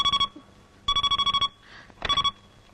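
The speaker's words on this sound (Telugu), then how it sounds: "ఈ ఫోన్ నాకు డాడీ." A telephone rings in three clear electronic bursts of rapid trilling tones, each roughly a third of a second, with short quiet gaps and faint background noise between them.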